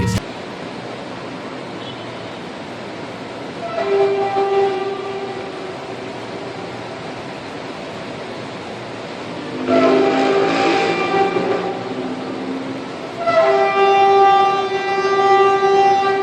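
Loud trumpet-like blasts in the sky recorded in Michigan, heard as three sustained tonal bursts with stacked harmonics, each lasting a few seconds and separated by pauses, rising over steady background noise.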